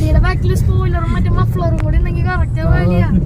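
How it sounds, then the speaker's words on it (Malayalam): A truck jolts along a rough, rocky cobblestone road at speed, its engine and rattling body making a constant low rumble beneath people talking throughout. "റാലി പർപ്പസ് പോലെയാണല്ലോ പോണ വണ്ടി"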